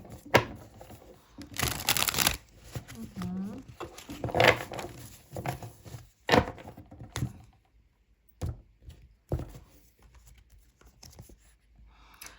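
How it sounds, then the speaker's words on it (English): Close-up papery shuffling and riffling of tarot cards in irregular bursts, with quiet pauses between, sounding near and soft. "More cards. Let's shuffle."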